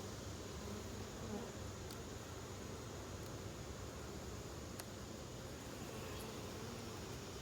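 Honeybees buzz steadily throughout an open hive inspection, a dense continuous hum with a few faint clicks and knocks above it, quiet and even with no talking.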